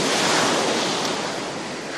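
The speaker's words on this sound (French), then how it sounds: "Voilà, donc aujourd'hui il y a de la houle" Sea swell breaks on the shore at a fishing spot near Fréjus and Saint-Raphaël on the Provence coast, a dense, loud, continuous wash of surf with wind rushing over the microphone.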